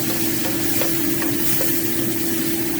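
Lotia dried fish fries with browned onions in a pan, a dense, even sizzle up close, broken by a few soft stirring taps.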